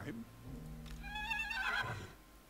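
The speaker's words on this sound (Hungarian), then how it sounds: "Ne nyeríts." A horse neighs in a whinnying, rising-and-falling call from the video game Total War: Warhammer. The neigh sounds at moderate distance, with faint background game sound around it.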